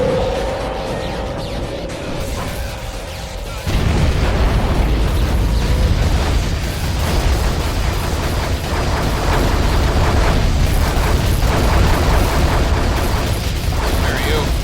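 A bomber is destroyed in the Aqua Nox game with a sudden loud explosive burst, followed by a sustained roaring rumble of debris and engine noise, close and dense, with no talking.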